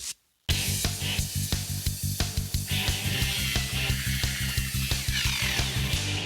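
A steady, loud machine whir with rhythmic pulsing, a rotary polisher with a fine pad and finishing polish buffing car paint continuously, with no voices.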